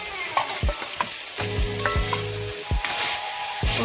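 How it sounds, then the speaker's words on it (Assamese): Tomato stirred in a hot pan while cooking boiled chicken: a steady close sizzle broken by spoon scrapes and a few dull knocks against the pan, with no voices. "ভালদৰে লৰাই দিছোঁ।"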